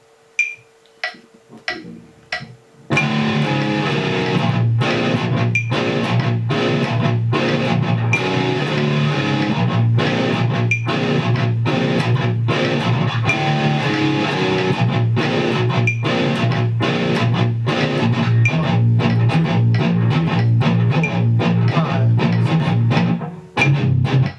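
A few metronome clicks count in before a heavily distorted guitar plays a syncopated, stop-start pre-chorus riff, loud and chugging, with the click ticking along underneath.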